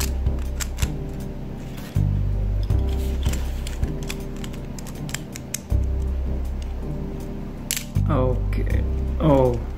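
Plastic and metal parts of a Beyblade Burst GT Grand Valkyrie Giants Edition top snapping together during assembly, giving a handful of sharp, close, tight clicks spaced a few seconds apart, with a voice speaking now and then.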